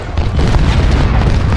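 Heavy artillery fire booms in the Civil War strategy game Ultimate General: Civil War, a loud continuous rumbling barrage of blasts that fills the whole moment with dense low roar.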